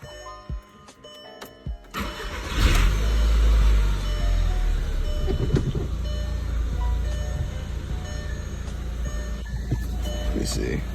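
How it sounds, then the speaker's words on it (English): A VW Mk4 GLI fitted with a CTS turbo intake cranks and fires after a few clicks, then settles into a loud, steady rumbling idle close by with its hood open, while someone talks over it. "Time to turn on the car."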